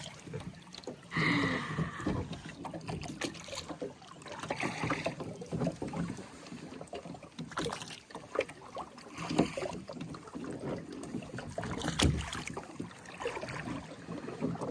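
A boatman rowing a small rowboat on open water, with soft rhythmic oar splashes and trickling water under light wind, moderately close, with occasional faint voices.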